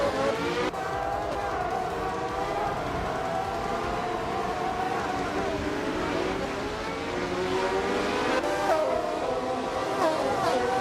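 Race cars in a video game race roar continuously at high revs, a dense layered engine whine with pitch sweeps as cars shift and pass, loud and steady throughout.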